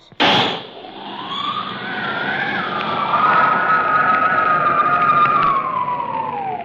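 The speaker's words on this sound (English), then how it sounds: "then you will turn on the wind in the tunnel" A comedy radio wind-tunnel blast bursts on suddenly, then settles into a loud, steady rushing roar with a rising whine that holds to the end.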